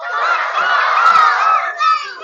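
Voices imitate a crow's caw in a told folk tale, producing a loud, continuous, harsh squawking cry that holds for about two seconds with a brief rise near the end, without other talk.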